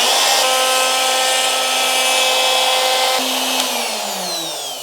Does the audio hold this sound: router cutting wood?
yes